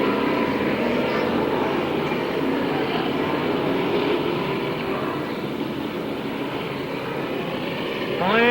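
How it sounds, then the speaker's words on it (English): Race cars roar around Canaan Speedway just after the green flag in a dense, continuous engine drone from a pack of cars. An announcer's voice can be heard faintly under the noise. "Paul Barron pulls the green flag out, and we are racing at Canaan."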